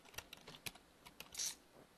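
Mouse or keyboard clicks advancing on-screen text in the game The Consuming Shadow: a handful of sharp, quiet taps spaced irregularly over two seconds, with one slightly longer, brighter burst near the end, no voices.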